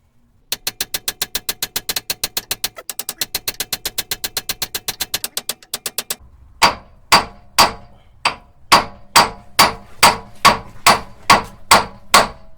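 A hammer strikes the track rod end on a Hyundai Terracan. A fast run of light ringing metal taps gives way to a dozen heavier, evenly spaced blows, close and loud, with no talk over them.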